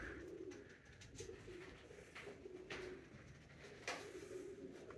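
Pigeons cooing inside an abandoned school building in Macclesfield with holes in the roof, several soft repeated coos alongside faint rustles and knocks in a quiet, echoing space.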